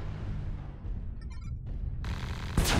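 Gauss rifle fire from a mech in MechWarrior Online, with dense, loud, rumbling weapon blasts and a sharp burst near the end amid battle noise.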